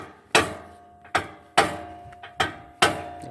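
A hammer knocks out the blade pin on a mini excavator in six sharp, ringing metallic strikes spaced about half a second apart, loud and close with short decays.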